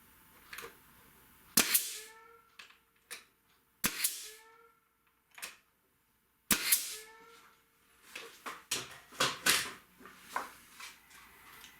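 Sharp nail gun shots fastening Palram Palight plastic board, three loud distinct bangs spaced a couple of seconds apart, each followed by a short ringing rattle, then a run of smaller knocks and handling clatter near the end.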